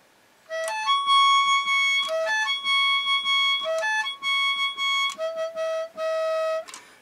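A cheap $13 toy trumpet plays a short, repeating rap-beat phrase of bright, buzzy sustained notes. The notes are punchy and stepwise, close and loud, and come with no voices.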